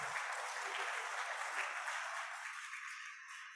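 Audience clapping at a church-style gathering after a call to praise Jesus, steady dense applause filling the room for several seconds and tapering slightly toward the end.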